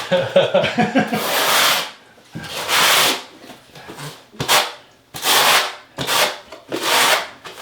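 A trowel sweeps across a pebble shower pan in repeated scraping strokes, each a loud, close rasping rub lasting about a second, separated by short pauses.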